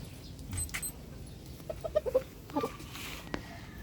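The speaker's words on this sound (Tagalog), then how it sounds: "Ito po ang aking napakabait na manok." A Bulik gamecock gives a series of short, soft clucks against a noisy outdoor background, with a few scattered knocks around them.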